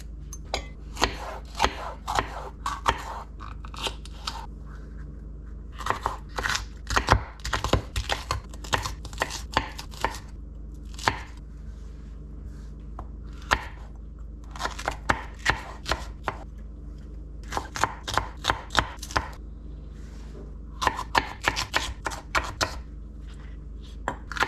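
Knife chopping produce on a board while cooking chicken sausage étouffée: quick bursts of crisp, close taps in uneven runs, separated by brief pauses and occasional scraping.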